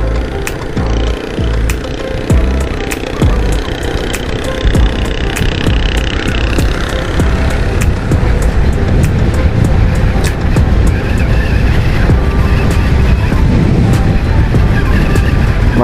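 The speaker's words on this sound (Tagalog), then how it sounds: "Bagal ng motor natin ngayon" Steady engine drone of a moving Honda XRM 125 motorcycle, loud and continuous with broadband road and wind rumble throughout.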